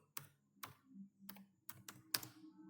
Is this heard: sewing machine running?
no